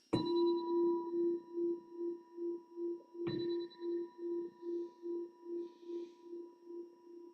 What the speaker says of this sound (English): So listening to the sound of the bell